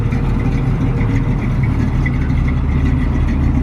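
A 1966 AMC Rambler Marlin fitted with a small block Chevy 350 V8 runs steadily, a dense, loud, close engine rumble with no change in pitch throughout.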